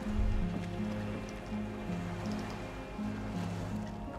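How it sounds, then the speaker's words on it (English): In the video game Disco Elysium, a skiff rocks on ocean waves. A continuous wash of surf and lapping water sits under low, sustained tones, with no voices. "The skiff is swaying on the waves."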